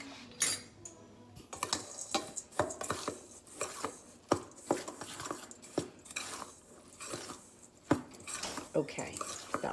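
Dry cookie ingredients with a teaspoon of salt are given a quick mix in a bowl, a utensil clinking and scraping against the dish in irregular, sharp taps, close and fairly quiet.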